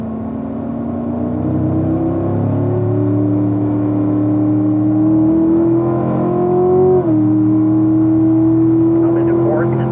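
2018 C7 Stingray Corvette accelerating on the Spring Mountain track, a loud steady engine note climbing in pitch through the gears with a clear drop at each shift, a driving instructor talking over it.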